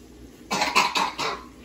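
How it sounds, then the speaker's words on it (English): A person coughs in a home kitchen, several quick close coughs in a row after a brief quiet moment. "I had to cough."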